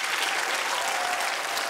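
A studio audience on a TV quiz show applauds. The clapping is steady and dense, heard alone for a brief moment without talk.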